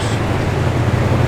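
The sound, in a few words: 1970 Buick Gran Sport engine running on high idle with choke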